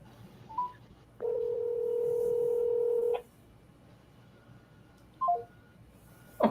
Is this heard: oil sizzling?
no